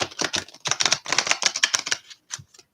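A deck of tarot cards is shuffled in quick, crisp bursts of riffling and snapping, close and fairly loud. The bursts repeat irregularly for a couple of seconds and then stop, with no talk over them.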